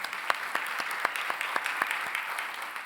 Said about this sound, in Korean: 우리 수고 많아서 박수 한번 하겠습니다.